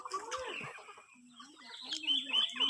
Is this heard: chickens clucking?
yes